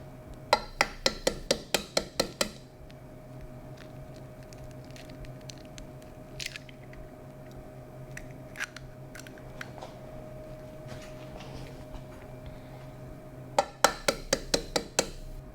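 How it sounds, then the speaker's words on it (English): Eggs cracked for a sweet potato cake, with rapid bursts of sharp tapping and cracking near the start and again at the end, close, and quieter shell and bowl handling in between, no speech. "So I'm gonna crack these eggs."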